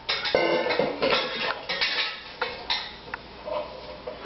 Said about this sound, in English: And stir it all up.